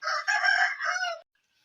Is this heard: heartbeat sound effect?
no